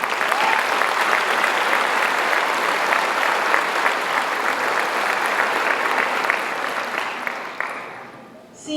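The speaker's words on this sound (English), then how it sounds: "That is something that we have to applaud." Crowd at a 2022 high school graduation ceremony breaks into sustained, loud applause that holds steady for several seconds, then fades out toward the end.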